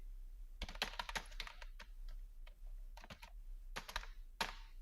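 Keys clatter on a computer keyboard while text is entered into an Excel spreadsheet, uneven bursts of close, crisp taps with short pauses between them.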